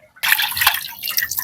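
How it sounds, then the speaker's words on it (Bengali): Water splashes and pours steadily over pieces of freshly cut rui fish being washed, a close, continuous wet rush that starts abruptly and carries on with small drips and sloshes. "মাছটা আমার কাটা হয়ে গেছে, এবার সুন্দর করে ধুয়ে নেবো।"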